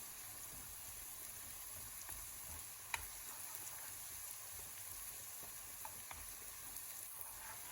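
Crushed garlic fries in about two spoonfuls of corn oil while being stirred, a faint, steady hiss of sizzling with a few light clicks of a spoon, quiet and unbroken.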